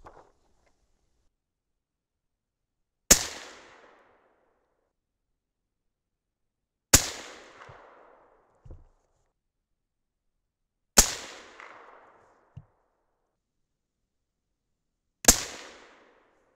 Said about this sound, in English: But I'm going to shoot them all nine at the same dot.